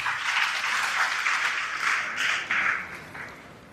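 An audience at a university event applauds steadily, a dense wash of clapping that swells in a few bursts and then fades toward the end, heard at moderate distance with no talk.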